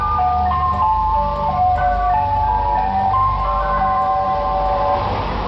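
A white van crawling slowly through a neighbourhood plays a warbling ice cream truck jingle, its wavering melody looping steadily and loud over a low engine rumble.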